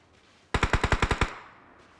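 Rapid automatic gunfire in the PUBG Mobile video game, a burst of about eight sharp evenly spaced shots lasting under a second, loud and close, followed by a short fading echo.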